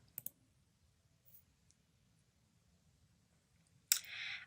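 Computer mouse clicking on a blue hyperlink: a quick pair of faint, close clicks, then near silence with tiny taps, ending in a short burst of brighter clicking noise.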